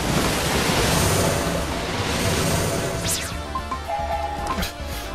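A surging water attack effect in the Blue Dragon video game, a loud continuous rushing roar like crashing surf that fades slightly, with faint chimes near the end.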